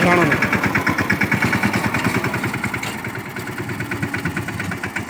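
A farm tractor pulling a tine harrow moves slowly across a field, its engine chugging in a steady, close, rhythmic thump, with voices talking over it.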